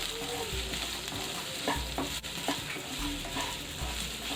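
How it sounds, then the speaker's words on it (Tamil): Onion and garlic sauté in a pan for a masala squid fry, hissing steadily up close while a utensil stirs and scrapes in repeated strokes. "இப்போ வந்து ஆனியனை போட்டு உள்ளியை போட்டு கொஞ்சமாக வதக்கிடலாம்."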